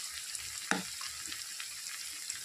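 Taro (kochu) fritters frying in hot oil, a soft continuous bubbling crackle with one sharper clack of a utensil early on and light pops afterward, close and low in level, no speech.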